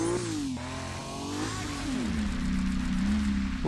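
Engine of a car in the street-racing drift game Kaido Racer, revving loudly and continuously with rising and falling pitch as the car drifts, with no speech over it.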